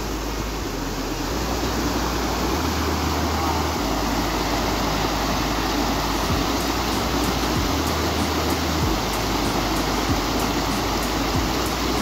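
Mountain spring water pours in a close, loud, unbroken rush that stays steady throughout, with no talking.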